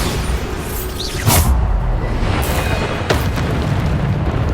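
Bombarda spell explosions in the video game Hogwarts Legacy, several deep booms over a dense roar of battle noise, loud and close, with no talking.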